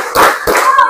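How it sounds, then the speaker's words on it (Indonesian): A class clapping together in a classroom clapping game: two sharp, loud group claps in quick succession, close and punchy, with faint voices around them. "Tepuk 1, tepuk 2, yes. Tepuk 3,"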